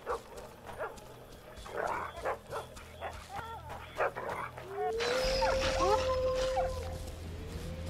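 A dog in The Witcher 2 video game barks and yips in a series of short, sharp bursts, then gives a drawn-out whimpering whine, close and fairly loud over low background game sound, with a voice speaking in between.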